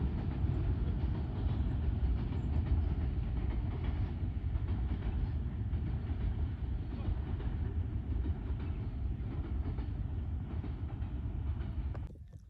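The Super Parcel Express, hauled by a diesel locomotive, rolls through Braudabad railway station in Thatta District. A loud, continuous rumble and wheel clatter runs at close range for about twelve seconds, then cuts off abruptly.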